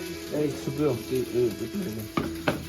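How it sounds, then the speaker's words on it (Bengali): Eggs fry in a pan at a camp on a remote trek in the Bandarban hills, a soft sizzle running under a nearby voice, with a couple of sharp clicks near the end. "এই তো সুন্দর চলছে ডিম ভাজা"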